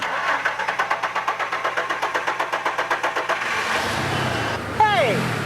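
A car engine cranks with a steady rhythmic starter chug for several seconds, then catches and settles into a running idle after a loose oxygen sensor on the exhaust manifold was tightened; a brief squeal rises near the end.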